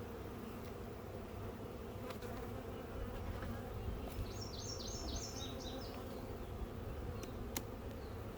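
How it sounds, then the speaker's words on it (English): Honeybees buzz thickly and continuously around a hive, with a few faint chirps briefly rising above the hum midway through. "that's a lot of bees."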